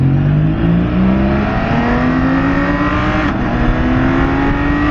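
A 2024 BMW K 1600 GT sport touring motorcycle accelerates hard, its engine note rising steadily through the gears, loud and close with constant wind rush.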